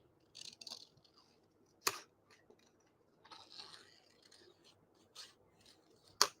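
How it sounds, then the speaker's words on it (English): Scissors snip in a few short, crisp bursts while fussy cutting around a stamped paper sentiment for a Christmas card, close and fairly quiet, with two sharp louder clicks standing out and no talking. "All right, so I'm going to fussy cut around this sentiment."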